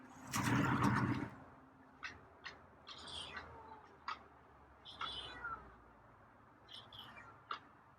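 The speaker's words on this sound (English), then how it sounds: "Yeah, it's a few meows." A few quiet, scattered meows from a feral cat, spaced out over several seconds after a brief louder rustle at the start.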